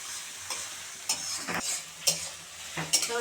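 Onions fried in a pan for mutton curry, stirred by spoon in short scraping bursts over a steady close sizzle, with no talk.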